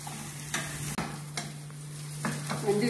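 Sliced onions and green chillies frying in a pan for a bitter gourd dish, with a steady close sizzle and occasional scrapes of a spoon stirring, no voices.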